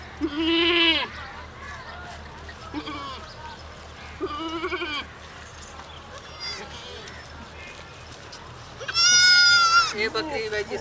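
A pregnant milk-breed goat, three and a half months along, bleats several times in loud, wavering cries with pauses between, while people talk nearby and other farm noise sounds in the background.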